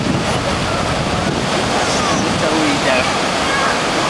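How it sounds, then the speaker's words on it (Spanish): Ocean surf at a beach in Mar del Plata makes a constant loud roar of waves mixed with wind buffeting the microphone, and faint voices can be heard beneath it. "¡Qué lindo el sonido del agua!"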